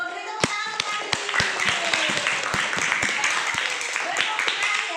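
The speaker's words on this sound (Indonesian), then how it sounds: "Beri tepuk tangan untuk Abidin." Students in a classroom clap for a classmate who answered correctly, a steady patter of many small hands close by, with children's voices mixed in.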